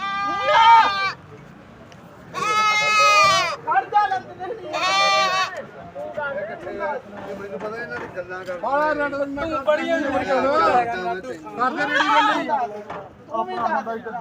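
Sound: goat bleating at livestock market

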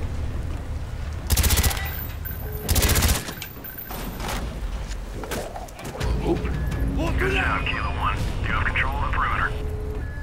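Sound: gunfire shooting door hinges in Black Ops video game

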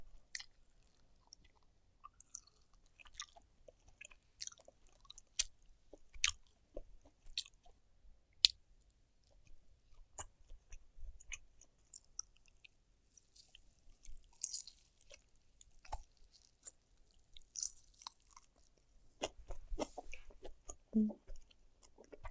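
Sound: chewing grilled pork ribs and sandfish

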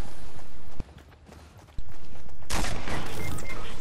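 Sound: gunshots in a video game, shooting a guy in a skeleton suit

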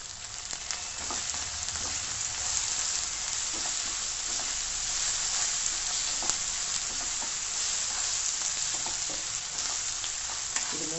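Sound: onion, ginger, garlic and green chili sautéing for beef curry

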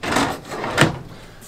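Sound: drawer in an RV kitchen being opened or closed

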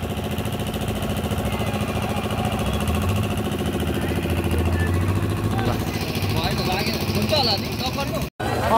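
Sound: motorcycle engine revving

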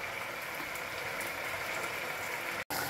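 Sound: arborio risotto simmering in broth

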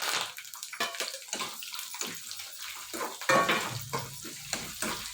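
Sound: frying peanuts, onion, curry leaves and dry chillies in a pan

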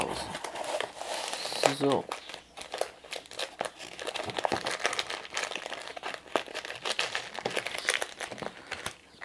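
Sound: plastic film crinkling while unboxing a diamond painting kit

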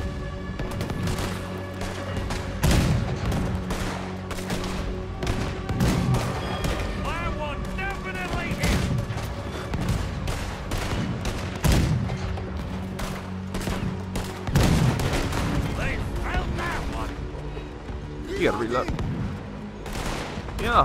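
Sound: cannon firing in video game

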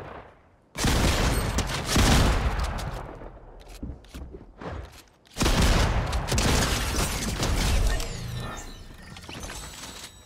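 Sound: gunshots in the video game Fortnite

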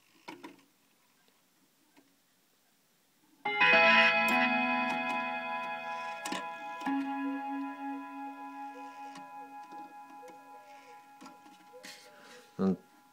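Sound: clock ticking

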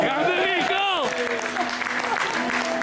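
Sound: theatre audience applause

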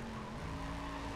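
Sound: car burnout tire squeal in Need for Speed World video game

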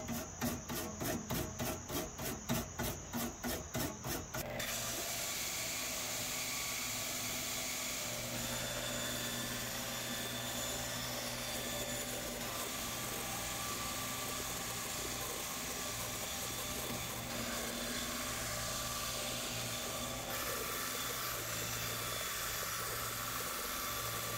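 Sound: saw cutting padauk wood

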